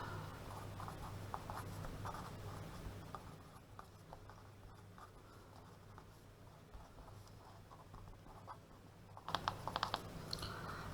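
A pen scratching steadily across paper while working out a maths proof, a faint continuous scribbling close to the microphone with a few sharper taps near the end and no speech.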